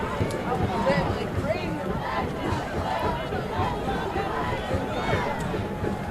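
Spectators at a high school football game between Meyers and GAR in Wilkes-Barre, PA, chatter in a steady, dense babble as they file out of the stands, with scattered voices and footsteps throughout.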